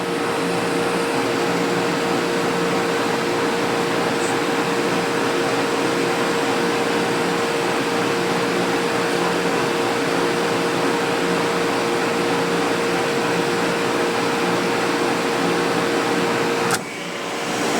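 An air conditioner compressor starting up: a steady, loud mechanical hum with a constant tonal drone runs unbroken, then cuts off sharply near the end.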